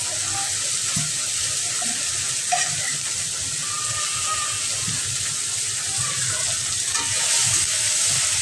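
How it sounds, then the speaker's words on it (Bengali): Onion and tomato fry in a pan with a steady, dense sizzle that holds evenly throughout, with occasional stirring clinks and no voices. "এখন পেঁয়াজের সাথে টমেটোটা ভালো করে ভেজে নিব"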